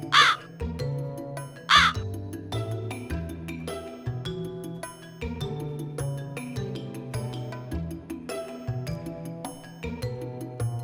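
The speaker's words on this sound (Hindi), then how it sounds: "वहाँ एक कौवा था।" A crow caws twice in quick succession near the start, loud and close, over a steady bed of music that continues throughout.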